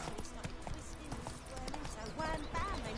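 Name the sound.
horse Roach galloping hoofbeats in video game Witcher 3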